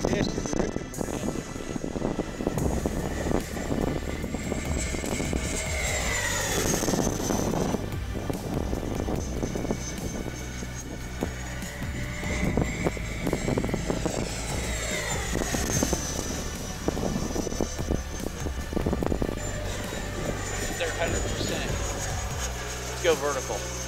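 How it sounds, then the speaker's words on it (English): E-flite 90mm Viper RC jet flying overhead, a continuous loud ducted-fan whine that rises and falls in pitch as it passes, with wind noise and people talking throughout. "E-flite's first 90mm jet that I know of."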